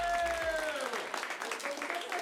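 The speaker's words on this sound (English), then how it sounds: "round of applause to our 3 improvisers" A short burst of clapping and applause from a small improv comedy audience, with a voice briefly over it at the start.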